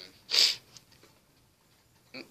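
A single sharp, close sneeze bursts out abruptly, followed by quiet breathing and a brief sniff or snort near the end.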